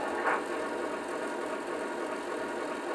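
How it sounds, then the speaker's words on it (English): A Vision Line model Centipede locomotive idles at slow speed with a steady, even engine rumble and faint mechanical hiss, heard alone at a moderate level. "Engine is at slow speed."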